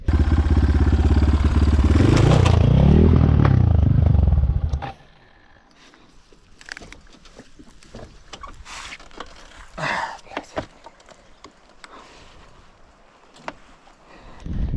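A KOVI LITE 300 motorcycle engine roars close by for several seconds, then cuts off, leaving quieter rattling, clanking and scattered handling noises.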